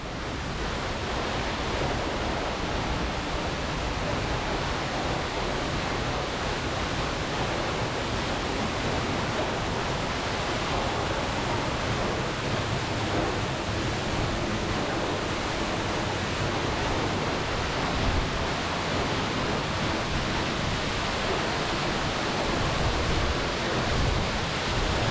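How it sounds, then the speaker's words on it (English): Bindaree Falls waterfall pouring and crashing down, heard from right underneath as a loud, dense, unbroken roar of falling water that holds steady throughout with no voices. "I'm underneath Bindaree Falls and getting absolutely drenched."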